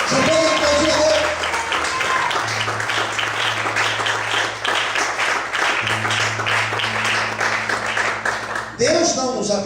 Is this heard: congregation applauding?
yes